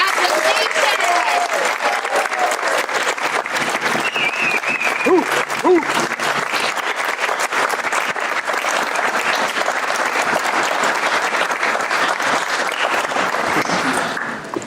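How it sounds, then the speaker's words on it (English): A crowd at a naturalization ceremony for new citizens breaks into loud, sustained applause that runs unbroken for the full stretch, dense overlapping claps with a few voices mixed in. "We need to give them a round of applause."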